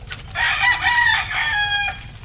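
Young chickens, hatched on the farm and now grown, call from a range area in a dense, overlapping chorus of high cheeping and clucking that rises and falls for about two seconds.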